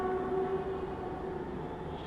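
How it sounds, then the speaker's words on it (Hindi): A Delhi metro train passes with a steady, fairly close rumble and a sustained tonal whine, with no talking. "वो जा रही है मेट्रो,"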